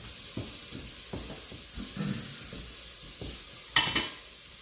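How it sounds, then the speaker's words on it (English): Garlic and onions cooking in a pan for tomato sauce, with a soft background sizzle broken by scraping, knocking stirs and a brief sharper clatter near the end. "So I'll add the garlic to this and cook that up a little bit."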